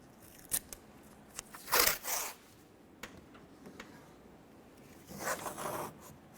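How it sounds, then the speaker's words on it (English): Masking tape pulled off the roll in several quick, raspy tearing bursts and pressed onto a window of a 2004-2006 Scion xB door, the strips coming as short sharp rips with quiet pauses between them. "I'm going to use some of this masking tape, and I'm going to use a lot of it"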